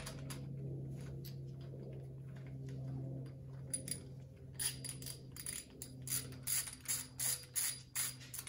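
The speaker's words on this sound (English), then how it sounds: "Ratchet likes to not work sometimes." A ratchet wrench tightens a cam bolt during timing chain work on a Toyota 22RE engine, with a run of quick rhythmic clicking strokes near the end over a steady low background hum, close and moderately loud.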